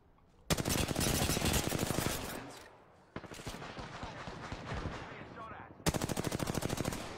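Rapid automatic gunfire in the video game Apex Legends: three long, loud bursts of fast shots separated by short pauses, up close and dominant.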